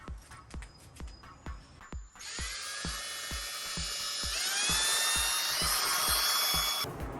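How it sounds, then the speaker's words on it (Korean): Regular ticking clicks, then a power drill spins up and whines steadily while boring a hole for a rivet nut on an electric bicycle, rising in pitch before cutting off. "요거랑 가장 비슷한 요 드릴을 찾아서 요 드릴날로 한번 해보겠습니다"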